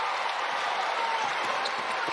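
Arena crowd at a UCF men's college basketball game against Vanderbilt, a steady broad roar of cheering and noise sustained throughout at moderate level, with faint ball bounces and court sounds mixed in.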